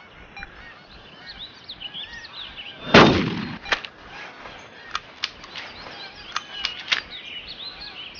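Single loud hunting rifle shot in the video game Cabela's Big Game Hunter, set in British Columbia, booming with a low rolling echo, followed by scattered short bird chirps and fluttering wing sounds over a quiet outdoor ambience.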